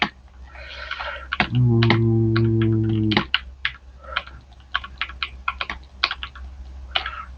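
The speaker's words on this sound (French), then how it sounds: "Donc, le clavier, c'est mon clavier." Computer keyboard keys clicked in a quick, uneven burst of close taps at a gaming setup, with a short steady hum partway through.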